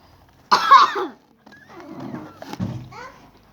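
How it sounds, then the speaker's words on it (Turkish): A single harsh cough bursts out up close, followed by quieter throaty rasps and short rough noises, with brief silence between. "Yaşlı insan gibi öksürüyorum ya"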